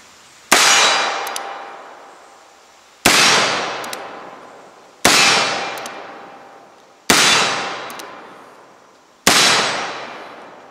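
Five loud, sharp gunshots from an Uberti Schofield revolver fired outdoors, each spaced roughly two seconds apart with a long ringing decay trailing after every shot.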